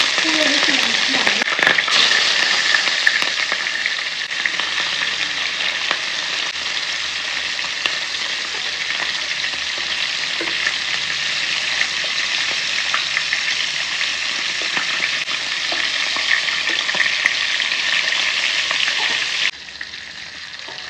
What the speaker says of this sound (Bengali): মাছ ভাজার জন্য তেল দিয়ে দিয়েছি কড়াইতে